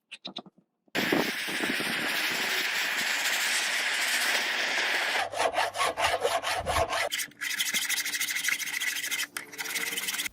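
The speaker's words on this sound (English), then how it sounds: "The hibaki piece is sanded up to a 1500 grit, using sandpaper to achieve a pristine," Sandpaper of 1500 grit rubs back and forth over the metal habaki collar of a rusted, restored Japanese katana, a loud, close, continuous scraping with rhythmic strokes that turn choppier toward the end.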